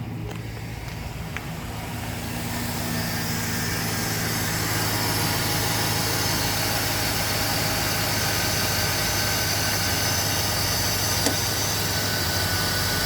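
Cooling fan motor on a 1999–2006 Chevy/GMC truck spinning up over a running engine, the whoosh building over the first couple of seconds and then holding a steady, close roar with the AC on.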